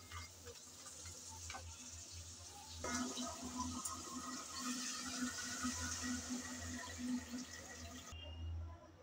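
Water is poured into a pot of jute leaf curry: a steady, close running-water sound that swells midway and carries on for several seconds, with no talking.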